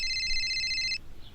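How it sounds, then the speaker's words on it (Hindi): Landline telephone ringing in a quiet room: a bright electronic double-tone trill holds steady for about a second, then cuts off, leaving near silence. "अचानक फोन बज उठा।"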